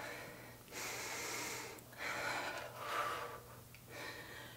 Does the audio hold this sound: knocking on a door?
no